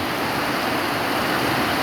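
Heavy rain pours down outdoors in a dense, unbroken roar of broadband hiss, steady and loud for the whole moment with no speech.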